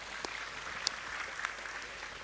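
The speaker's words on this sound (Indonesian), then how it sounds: "tepuk tangan untuk beliau" Soft, fairly distant audience clapping at a religious gathering, a quiet continuous patter with a few sharper single claps poking through.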